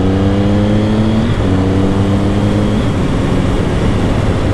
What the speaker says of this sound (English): Once you apply the throttle, man, it gets up and goes.